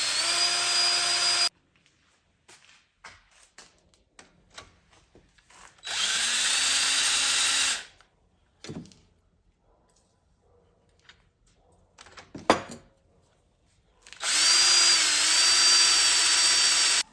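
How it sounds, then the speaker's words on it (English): A power drill bores pilot holes through quarter-inch steel plate during a Ford Pinto rear axle 4-to-5 lug conversion: three loud, sustained whining bursts, each a few seconds long, separated by quieter clanks and handling noises. "So we're just going to drill some holes."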